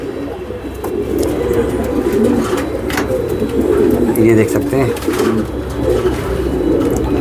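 Pigeons coo steadily in a low, throaty chorus close by, while someone talks over them.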